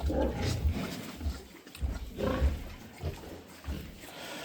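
Large White x Maximus crossbred piglets grunt and snort close by in a series of low, rough bursts that come every second or so, with no talk over them.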